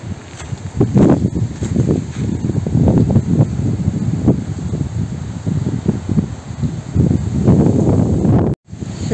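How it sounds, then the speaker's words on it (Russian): Strong wind gusting around a rural house yard in September, loud continuous low rumbling and buffeting against the microphone with rustling, surging in waves and briefly cutting out near the end. "Все, ветер сильнее становится."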